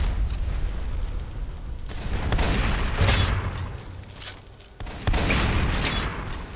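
Rifle shots ring out in Skyrim combat, several sharp booming bursts spaced irregularly over a low rumbling background.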